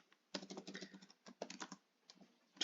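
Someone types on a computer keyboard in a quiet room, a few quick bursts of soft, close key clicks separated by short pauses, with no one speaking.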